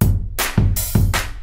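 Dry FL Studio clap samples with no reverb, four sharp hand-clap hits in a steady pattern over a continuous low bass thump, loud and close.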